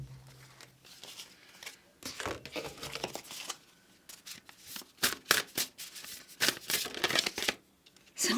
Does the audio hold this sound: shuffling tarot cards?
yes